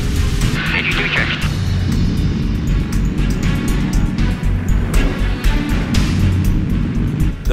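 An aircraft engine runs during a check on a firefighting bomber, a loud, continuous droning roar with pulsing fluctuations, heard close with voices talking over it.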